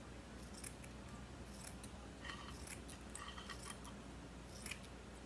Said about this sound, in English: This is some thicker lace, so I am thinking cut it in half.